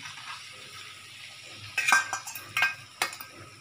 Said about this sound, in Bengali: এবার আমি নাড়া দিই, একটু মশলাটা কষিয়ে নিই।